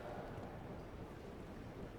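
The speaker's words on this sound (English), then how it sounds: "It's windy out here today." Steady outdoor wind rushes in Red Dead Redemption 2, a constant broadband roar with low buffeting gusts, loud and unbroken with no voices.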